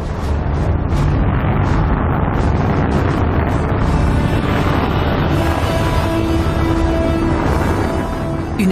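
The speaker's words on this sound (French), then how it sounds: "une incroyable déflagration perturbe le calme matinal" Apollo 11 rocket launch in Florida, July 1969: a loud, continuous, broadband roar that holds steady and overwhelming throughout, with no voices over it.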